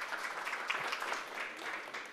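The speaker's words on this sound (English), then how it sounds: "Give them a round of applause." A steady round of audience applause after a short lightning talk, a medium-level wash of clapping throughout with no voices over it.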